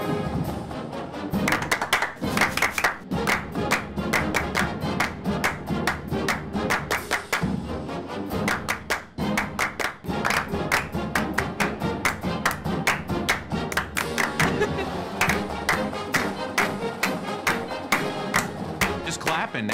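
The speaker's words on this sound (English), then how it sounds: "Just clapping now." A group of performers claps in a fast, steady rhythm, loud and close, with dense overlapping claps running nearly the whole time and faint voices underneath.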